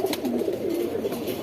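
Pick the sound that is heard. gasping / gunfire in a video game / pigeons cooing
pigeons cooing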